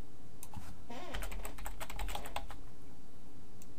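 Keys clatter on a computer keyboard in a quick irregular burst of close typing that stops after a couple of seconds, leaving quiet room tone.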